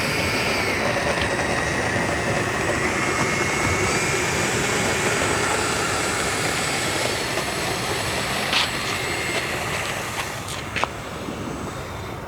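RC model F-16 EDF jet flying at a club field on New Year's Day, a steady, loud ducted-fan whine and rushing roar that carries on without a break and fades slightly at the end.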